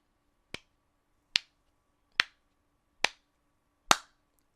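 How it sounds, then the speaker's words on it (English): Five sharp, separate claps ring out at an even, unhurried pace, each crisp and short with silence between. "Let me just clap."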